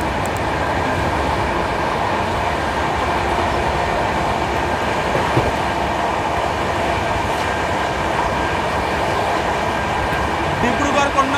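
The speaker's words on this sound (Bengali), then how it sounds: "ডিব্রুগড় কন্যাকুমারী বিবেক এক্সপ্রেস গেল" The Dibrugarh–Kanyakumari Vivek Express rushes past close by as a sustained, loud rail roar with steady wheel noise and faint clicks, heard from a nearby train.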